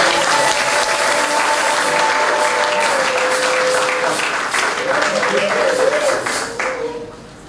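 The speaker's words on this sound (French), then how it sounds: "manifestons-le au moins par des acclamations" A church congregation breaks into strong, sustained applause and acclamations at a baby's baptism and first communion ceremony, dense clapping with scattered voices that fades away near the end.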